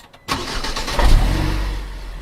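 A car engine cranks and catches abruptly after a short silence, then settles into a low rumbling idle with a brief rev, close and loud.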